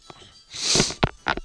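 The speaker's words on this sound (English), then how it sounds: "Oh, I sneezed again." A quick sharp inhale leads into a short, forceful sneeze, followed by a couple of small sniffing bursts, close and fairly loud.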